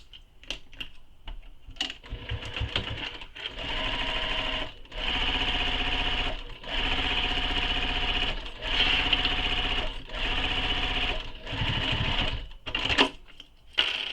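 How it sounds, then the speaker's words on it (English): A sewing machine basting a long-stitch seam on a quiver sling, running in several bursts of rapid mechanical chatter separated by short pauses, close and clear. "we're going to stitch this or baste this in place"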